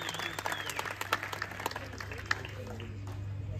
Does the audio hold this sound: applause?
yes